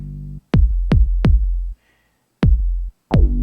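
A soloed electronic bass pattern from a minimal electro breaks track intro: three quick deep notes, a gap, then two more notes, each a loud punchy tone with short gaps of silence.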